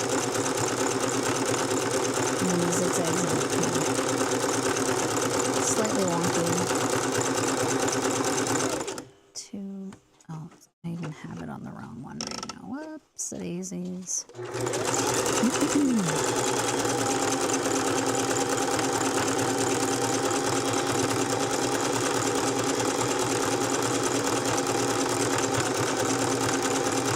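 A sewing machine zigzag-stitching a coiled fabric rope bowl, running loud and steady with a brief stop partway through before resuming.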